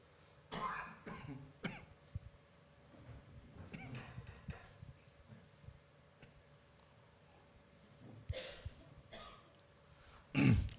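A few scattered coughs and throat-clearing sounds during a church service, quiet and spaced apart, with soft breathing and small ticks between them; a louder cough comes at the end.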